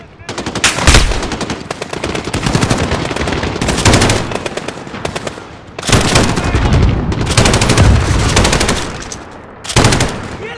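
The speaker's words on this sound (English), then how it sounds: "Precision sniping with an LMG." A light machine gun in the Modern Warfare Remake video game fires long, loud sustained bursts of rapid shots in three or four strings separated by short pauses, close and dominant, with a voice faintly under the fire.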